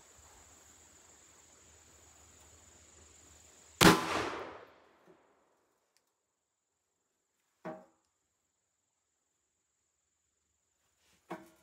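A .357 Magnum Rossi RP63 revolver with a 3-inch barrel fires a Hornady 140-grain XTP round into a gel block: one sharp, loud report with a short ringing decay, followed by two faint clicks.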